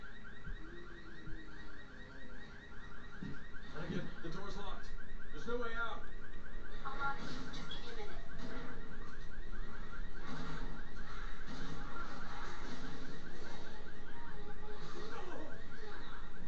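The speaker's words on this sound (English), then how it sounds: "You set off the alarm." Alarm blaring in the game Resident Evil 6, a loud, continuous warbling siren that runs the whole stretch with other game sounds mixed in.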